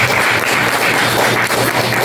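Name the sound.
audience applause for a professor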